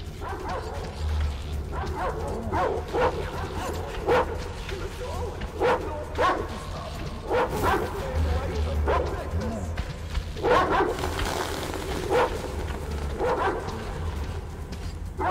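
Repeated dog barks and yips in Metro Exodus ring out in uneven bursts amid crowd noise, with people shouting and talking throughout.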